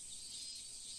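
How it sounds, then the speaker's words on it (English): Cicadas chirping in summer, a dense, steady high-pitched buzz that fills the brief moment at a faint, even level with no voices. "Cicadas!"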